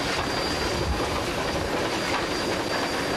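A steam-hauled train runs along a line in China, giving a dense, continuous roar of rolling wheels and rail clatter with a faint high hiss, steady and close throughout with no voices.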